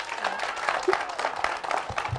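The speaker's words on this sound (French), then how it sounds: "J'ai besoin d'un tonnerre d'applaudissements avant même qu'elle commence." Audience applause at a French-language spoken-word performance show, with dense, steady clapping and crowd noise holding at an even level for about two seconds.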